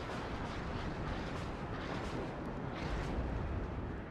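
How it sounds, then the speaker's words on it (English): Rocket artillery fire in the video game WARNO, a dense continuous rumble of blasts and booms rolling together at steady loudness throughout. "my teammate wipes me a little bit with his rocket artillery from being very careless"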